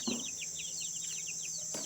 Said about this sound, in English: Here are some baby chickens.